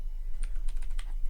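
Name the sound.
typing commands on a computer keyboard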